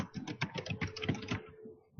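Rapid, close keystrokes on a computer keyboard clatter in a quick run of clicks, then trail off into quiet near the end.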